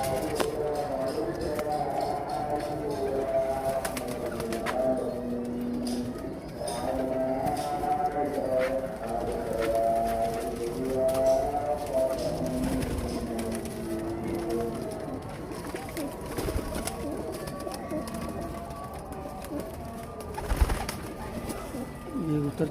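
Pigeons in a loft coo softly and repeatedly in overlapping rolling calls, with wing flutters and scuffling, while someone talks over them.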